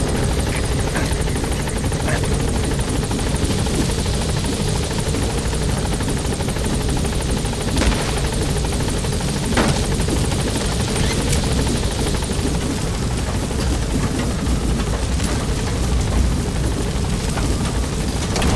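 The Pequod helicopter in Metal Gear Solid V sets down at a landing zone, its rotor wash a steady, loud, close roar that holds throughout with only slight swells and no other sounds.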